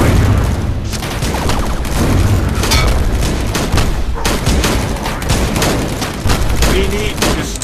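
Mortar grenade blasts and rapid gunfire in the video game Cactus Cowboys, a dense, loud barrage of booms and crackling shots with no pause.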